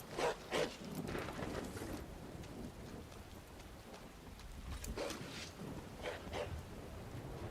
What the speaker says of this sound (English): Oh, I hear you, doggy.